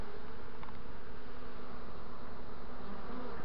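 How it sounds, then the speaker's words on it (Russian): A swarm of honey bees is gathered thickly while a beekeeper hunts for the queen, their dense, steady buzzing close and continuous with no voices. "Ну, пчел много."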